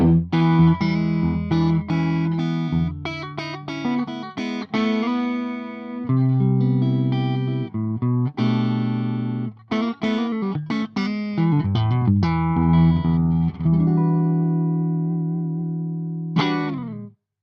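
Electric guitar through a Mooer preamp pedal with a fuller, slightly driven tone, strummed chords and picked notes played continuously and loudly, ending on a held chord.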